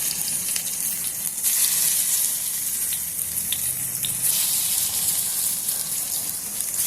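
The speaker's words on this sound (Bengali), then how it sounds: "আমি পকোড়াগুলো ভেজে নেব।" Taro-leaf pakoras frying in hot oil in a wok on a gas stove: a steady, close hiss and sizzle with crackling bubbles, continuing evenly with no talking.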